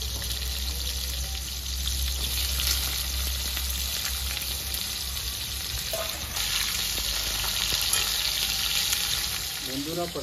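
Pieces of pointed gourd frying in hot oil in a pan, a constant close crackling sizzle with occasional stirring sounds over a low rumble, continuing alone without speech.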